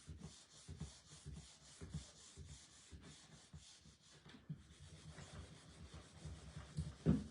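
Wax rubbed by hand onto a small wooden block carrying a fresh transfer, a steady dry scuffing and rasping in repeated back-and-forth strokes, close up and alone, with a louder knock near the end.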